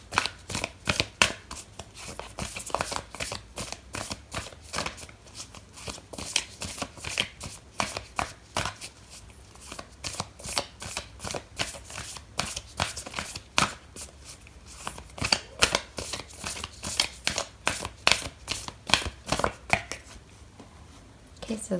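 A deck of oracle cards is shuffled by hand nearby, with quick repeated riffling bursts and flicks that run in uneven clusters, with some quiet pauses in between.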